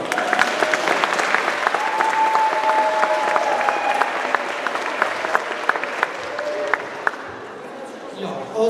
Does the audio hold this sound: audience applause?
yes